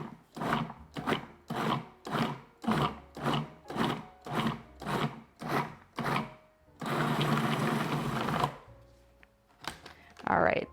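A food processor works vegan pumpkin spice brownie dough, first in about a dozen short, even pulses of motor whir, then one sustained run of a couple of seconds before stopping.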